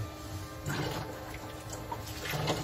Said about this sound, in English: Now we'll wash the spoon.